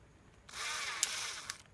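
A small power drill with a 9/64 bit boring into a rivet head on a Hot Wheels Real Rider wheel, whining steadily for about a second after a quiet start, with a brief sharp click as it bites.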